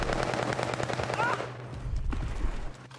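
Gunfire in a battle royale video game, Call of Duty Warzone, on a Pacific map: rapid automatic bursts rattle loudly, then give way to a few scattered single shots and thuds.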